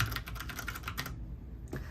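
Typing on an IQUNIX F96 mechanical keyboard, a quick run of close, crisp key clacks in an uneven rhythm that stops partway, followed by one final keystroke.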